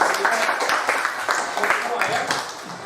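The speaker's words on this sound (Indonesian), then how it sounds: "Tepuk tangan untuk kita semua." Children in a fourth-grade classroom clap together in quick, slightly ragged bursts, loud and close, with young voices mixed in throughout.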